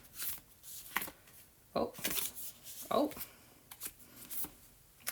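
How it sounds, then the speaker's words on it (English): Tarot cards are shuffled by hand in short irregular riffling bursts, close and fairly quiet, with a voice exclaiming briefly in between. "I feel I must shuffle again."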